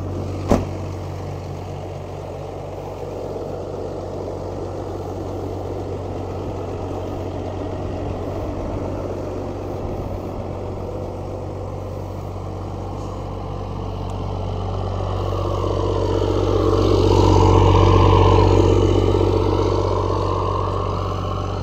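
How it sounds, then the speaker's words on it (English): A first-generation Cummins diesel dually pickup idles close by with a deep, steady rumble and a sharp click at the start, then swells louder toward the end as a passing vehicle sweeps by. "Gosh dang, that truck sounds good."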